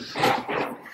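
A dog close by, giving a short burst of whimpering yips and barks in two bursts about a second long, heard on the way to a cricket match at Eden Gardens.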